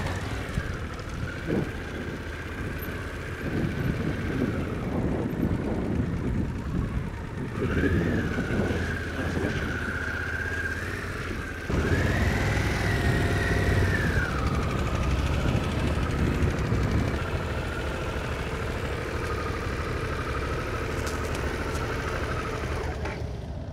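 A Harley-Davidson Pan America adventure motorcycle riding along with its engine droning steadily, the pitch rising and falling through gear changes, mixed with continuous wind rush past the microphone.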